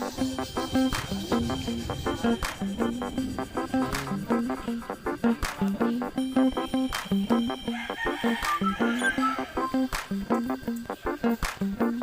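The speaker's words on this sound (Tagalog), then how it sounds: "Si Edmond mga manok, puro lugon din ah." Backyard chickens cluck and roosters crow repeatedly, close and clear, with sharp pecking or scratching ticks throughout.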